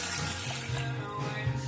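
Tap water running or pouring into a container in a home kitchen during meal prep, a steady splashing flow close by lasting under two seconds, with no talk.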